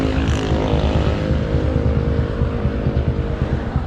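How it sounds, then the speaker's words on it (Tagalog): A vehicle engine warming up at idle, a loud, steady, close rumble with a constant low throb and no change in pace throughout. "pinapainit ko na yung kanyang makina"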